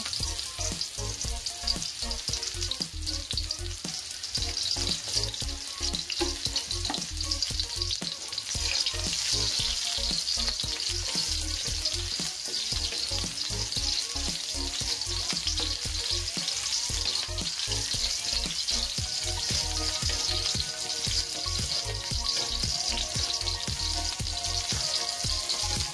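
Onions frying in a little oil, a dense, constant crackling sizzle close up that runs without a break, with faint stirring scrapes and no voices.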